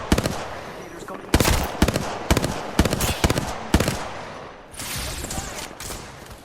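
Bursts of automatic gunfire in the shooter game Apex Legends crack out in rapid clusters of sharp, close shots, easing into a quieter rushing noise near the end, with a voice speaking over the action.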